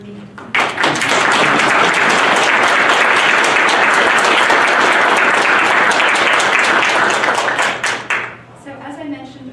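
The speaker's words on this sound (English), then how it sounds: "may I request a round of applause" An audience at a talk in a Japan-Alaska Association lecture series breaks into loud, sustained applause of many clapping hands that lasts about eight seconds and then fades into the room's murmur.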